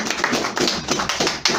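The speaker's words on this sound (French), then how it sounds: "Applaudissez pour la petite fille ici." A small audience in a church in Yaoundé claps for a little girl, a brief burst of sparse, uneven handclaps heard close by.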